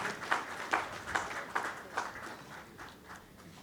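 An audience at an African investment talk claps after a speaker is thanked, the claps coming as faint, evenly spaced beats about twice a second and trailing off toward the end.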